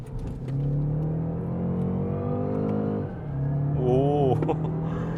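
A BMW 530e M Sport accelerates with manual paddle shifts, a smooth rising engine whir that drops at a gearshift around the midpoint and then climbs again, joined by a brief higher whine near the end.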